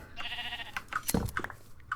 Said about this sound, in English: I'm not going to kill the sheep.